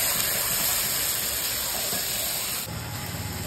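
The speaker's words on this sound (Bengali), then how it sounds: "এবার মাটনটাকে ঢেলে দিচ্ছি, ম্যারিনেট করা মাটনটা।" Marinated mutton poured into hot oil over reddish fried onions sets off a loud, continuous hissing sizzle that drops slightly and turns more spattery near the end.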